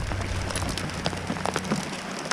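Hail pelts down during a storm at Lake Pleasant, a dense, continuous patter of small hard impacts with scattered sharper ticks, fairly loud and close, with no speech over it.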